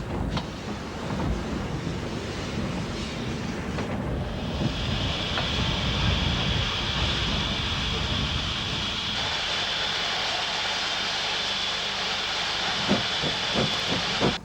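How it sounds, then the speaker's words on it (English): Steam locomotive 7023 Penrice Castle, built by British Railways in 1950, departs with a Hereford-bound train, its steam hissing and roaring continuously, with rhythmic chuffs emerging toward the end. "(7023) is departing on a Hereford-bound train."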